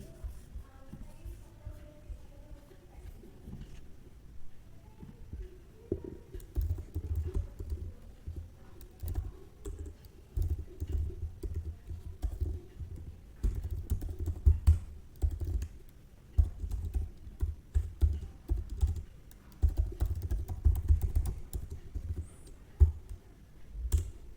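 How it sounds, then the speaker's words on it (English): Computer keyboard typing while code is written, a steady run of soft, irregular key clicks with occasional louder taps, close and alone without talk. "So let's write the code for this."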